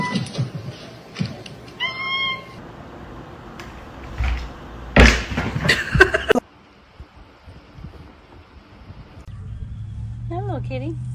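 A kitten gives several short, high meows, close and distinct, with a door sliding and slamming partway through and people talking in the background.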